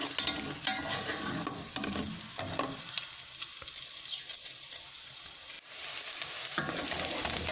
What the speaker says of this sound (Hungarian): a zsírjában a hagymákat meg fogom pirítani